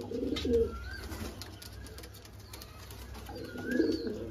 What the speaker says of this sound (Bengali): দেখে নিন পায়রাটা